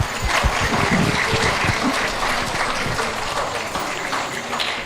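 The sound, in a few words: audience clapping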